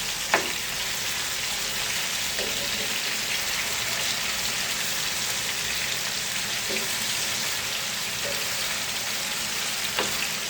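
Scored chicken pieces frying on a grill pan, a steady close sizzle with a few faint clicks and taps over it, no voices.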